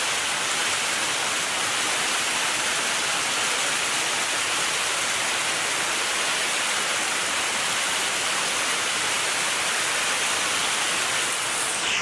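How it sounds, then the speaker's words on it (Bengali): Heavy rain falls fast and steadily, a dense, loud, unbroken hiss of downpour lasting throughout with no voices. "আজকের বৃষ্টি এত পরিমাণ স্পিডে নামছে মানে আপনাদেরকে বইলা বোঝাইতে পারবো না"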